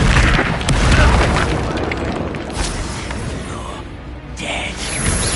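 Incendio fire spell cast in the video game Hogwarts Legacy: a loud, dense whooshing roar with booming bursts, fading a little then flaring again near the end.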